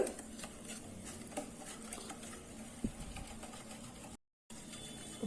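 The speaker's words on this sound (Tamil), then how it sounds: "கட்டி இல்லாமல் நம்ம நல்லா கரைச்சிக்கலாம்" A mixture for Boost Mysore Pak is stirred until smooth and lump-free, a quiet, steady scraping and clinking of a utensil in a bowl with one sharper tap partway through, alone without talk.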